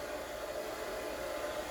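A hair dryer blows steadily and loudly from start to finish as a pet is dried after its bath, a constant close whooshing rush with no voices over it.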